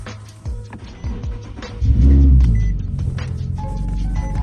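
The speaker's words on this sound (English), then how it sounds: "let's turn the car on." A Nissan 370Z engine cranks and catches, with a loud surge as it starts, then settles into a steady idle rumble, heard up close from inside the car.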